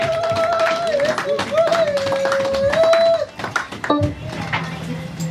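Congregation in a church clapping and cheering, rhythmic handclaps under a sustained sung or shouted voice and music, loud at first and thinning out after a few seconds.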